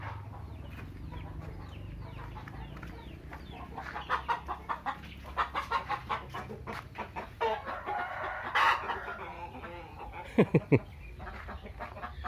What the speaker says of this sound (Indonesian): Ngajak ribut ini ayamnya.